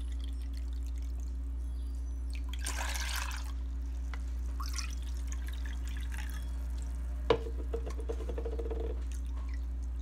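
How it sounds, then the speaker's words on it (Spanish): Two cups of cold water poured while making a Fourth of July gelatin dessert, a soft splashing pour in two short bursts over a steady low hum, followed by a few faint drips. "A esta le voy a agregar 2 tazas de agua fría."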